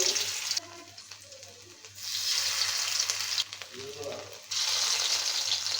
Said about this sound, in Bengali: দেখেন এক এক করে আমি এখানে বড়াগুলো দিয়ে দিব।